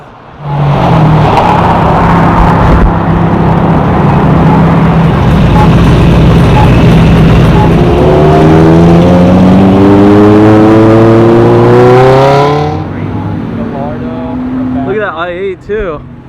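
Cars pull in to a car show in Malibu, one engine roaring loudly up close and revving with a steadily rising pitch before the noise cuts away, leaving quieter background rumble.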